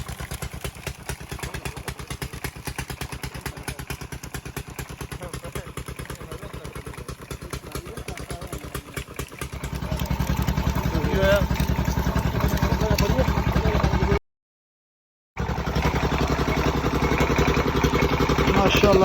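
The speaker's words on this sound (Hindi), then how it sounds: "लेकिन अब उसकी जगह इस इंजन ने ले ली है।" A small engine powering a sugarcane juice press chugs in a fast, steady pulse, growing louder and rougher partway through as the press works, with voices talking over it and a brief dropout near the end.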